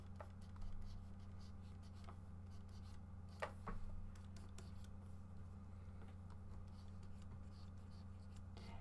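A pencil sketches a lion's hair on paper in a quiet room, with soft, faint scratchy strokes coming in short bursts.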